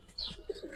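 Young, aggressive pigeons of a silver Giribaz pair give a short, soft coo with a few faint chirpy calls, close and quiet.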